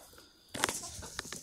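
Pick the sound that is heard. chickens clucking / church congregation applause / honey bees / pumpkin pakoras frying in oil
chickens clucking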